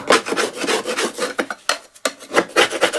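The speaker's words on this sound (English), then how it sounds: "and scraping off as much as I can" A hand scraper rasping debris off the underside of an electric lawnmower, repeated close, loud scrapes in uneven strokes with brief pauses between them, no talking.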